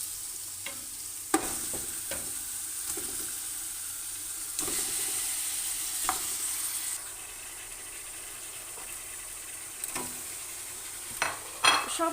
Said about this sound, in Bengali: এখন এটাকে ভালো করে নেড়ে নেব